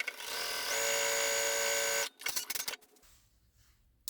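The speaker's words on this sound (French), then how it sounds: "on va faire une deuxième couture ici pour récupérer notre triangle" Sewing machine running a second seam across quilt pieces for a Valentine's quilt, a loud steady motor whine lasting about two seconds, then brief clattering and handling noises and near silence.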